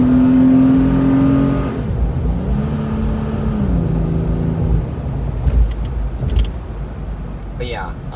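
V6 engine of a 1999 Ford Explorer Sport revs with a steady droning tone that rises, then drops and settles into a lower idle-like rumble, fairly loud and close, with brief clicks near the end.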